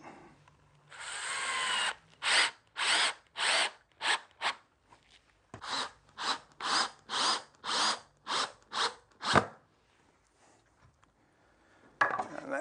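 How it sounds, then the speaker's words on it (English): A power drill drives a couple of screws into the glued wooden upright of a saddle stand, giving repeated short whirring bursts in two rapid runs, close and fairly loud with no talking. "Put that in place, a couple of screws in."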